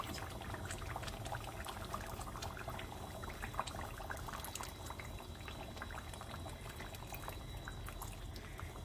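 Hot water pours steadily into a pan of cooking turnip korma with a continuous splashing, bubbling sizzle lasting several seconds, close and moderately loud, with no talking.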